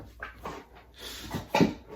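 A large young dog whimpers in short, high, nasal whines, several close cries in quick succession while waiting for a chew toy to be thrown.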